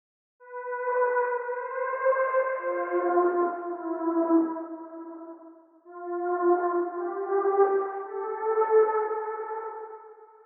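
A Zebra software synth runs through Synth Warmer saturation and a Desert Cities delay, holding two long, swelling chord pads with stacked harmonics and a smeared echo tail. The second pad follows a brief dip, and nothing else is heard.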